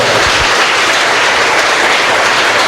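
Church congregation clapping loudly in praise during a service: a thick, continuous wash of many hands applauding together, close and sustained, with no talking over it.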